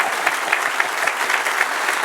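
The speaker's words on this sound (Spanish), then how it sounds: "Dale un aplauso al Señor." A church congregation applauding during a sermon, brief, steady clapping from many hands with a few sharper claps standing out, moderately quiet.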